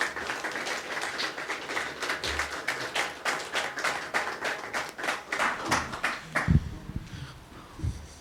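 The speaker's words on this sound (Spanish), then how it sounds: "le vamos a dar un fuerte aplauso" Studio audience in Chattanooga breaking into a loud, sustained round of applause, dense clapping running steadily for several seconds before fading, with voices mixed in near the end.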